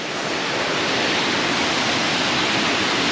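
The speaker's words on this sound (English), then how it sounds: "From here you have a beautiful view over the waterfall of Allerheiligen." Allerheiligen waterfall in Germany's Black Forest pours steeply down the mountainside, giving a continuous, dense rushing roar that holds steady throughout.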